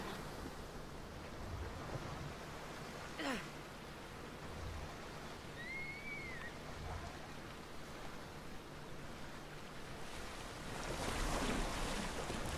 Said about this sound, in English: these boats move super fast, which is nice